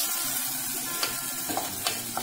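Vegetables being stirred in a frying pan, a steady soft sizzle with a few quick scraping clicks of the utensil against the pan, fairly close and alone.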